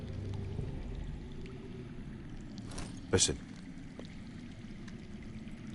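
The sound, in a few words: underground running water in a video game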